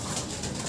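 A champion racing pigeon coos softly up close, a short low burble against a noisy background.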